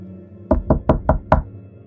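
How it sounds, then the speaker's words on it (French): Five sharp knocks in an uneven, hesitant rhythm, close and hollow against a quiet background, an eerie tapping in a house at night. "Soudain, Donna était réveillée de son rêve par un étrange bruit de tapotement."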